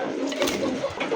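A female pigeon of a fancy breed cooing at close range in a short, soft burst of throaty coos, with faint background noise and no clear speech.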